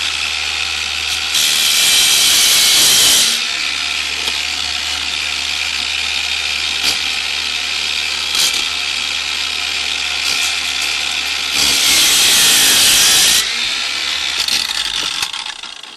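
A power tool grinds loudly and steadily, cutting out the back of a stone Decora rocker switch plate, with two harsher, brighter bursts of cutting as the blade bites deeper into the stone.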